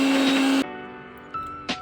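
A kitchen mixer grinder runs loud and steady while grinding tamarind chutney with garlic, then cuts off abruptly, leaving a faint hum followed by two short blips as the motor is pulsed briefly.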